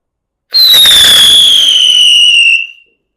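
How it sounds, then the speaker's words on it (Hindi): A single Diwali-season firework whistles upward with a loud, piercing rising-then-falling squeal lasting about two seconds, then cuts off, leaving silence. "के साथ में हमारा लास्ट पटाखा, क्योंकि आकांक्षा ने मना कर दिया"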